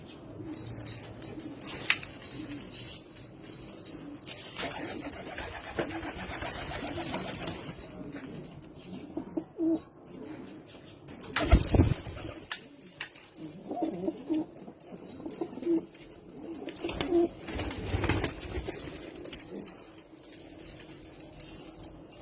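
Domestic flying pigeons in Syria coo and flap their wings close by, with scattered flutters and soft calls over a busy, noisy outdoor background throughout.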